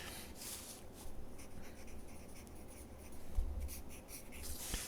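A pen or pencil scratches across paper as a dividing line is drawn on a page of notes, producing close, faint, uneven strokes that continue for several seconds with no speech.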